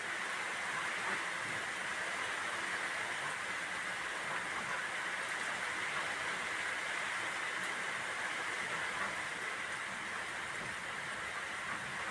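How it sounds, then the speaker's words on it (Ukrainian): Light summer rain falls in a steady, even hiss that stays soft and unbroken throughout, with no talking. "дощик у нас продовжує йти невеличкий"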